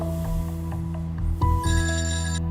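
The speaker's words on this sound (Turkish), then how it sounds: "Telefona bak Eze." A telephone rings insistently in a repeating electronic melodic pattern, loud and close, with a steady low hum beneath it and no voices.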